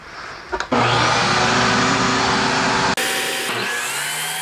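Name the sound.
saw cutting maple and blue wood strips to 1/2 inch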